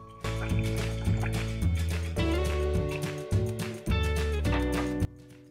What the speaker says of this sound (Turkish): Suyumuzu da ilave ediyorum.